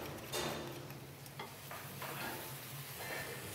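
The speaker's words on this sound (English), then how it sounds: "As you can see, our mushrooms and stuff are kind of browning off with that as well." Mushrooms fry in a hot pan and get stirred, making a continuous soft sizzle with faint scraping strokes of the spoon at intervals, fairly quiet and with no voices.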